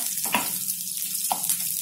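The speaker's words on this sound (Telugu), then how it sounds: "పోపుతో పాటు ఆనియన్స్ వేగాలి కొద్దిగా." Onions frying in oil with tempering spices for a sorrel and red gram dal curry, a close, continuous sizzle with a few brief stirring scrapes and pops, no talk.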